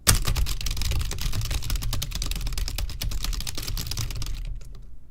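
Rapid clattering keystrokes on a computer keyboard, close and steady for several seconds before cutting off into silence.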